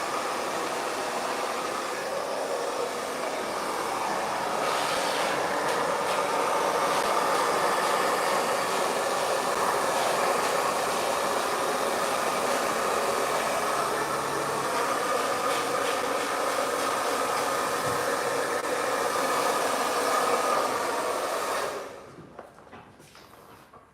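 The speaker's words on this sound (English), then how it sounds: "one good thing about this blow dryer is that it doesn't get too hot" A steady broadband whoosh of a hair dryer runs loud and continuous for about twenty seconds, then cuts off abruptly near the end.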